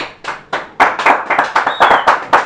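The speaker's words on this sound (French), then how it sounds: "On peut l'applaudir le jury." A small group claps for the jury on a French quiz show, with about a dozen crisp, close claps in a loose, uneven rhythm.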